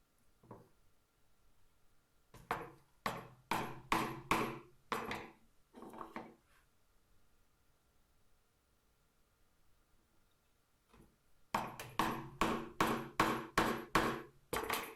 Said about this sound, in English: So we'll just pop out the waste here with a chisel.